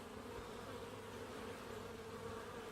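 A steady, dense buzzing of many honey bees bringing in pollen, continuous and fairly loud throughout, like standing close to a busy hive entrance.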